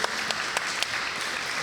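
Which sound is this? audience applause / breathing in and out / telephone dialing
audience applause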